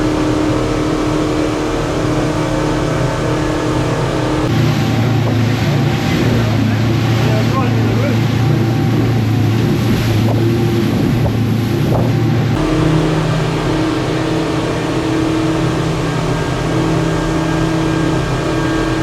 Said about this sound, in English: Yamaha's a little bit louder, especially with 2 motors, I guess.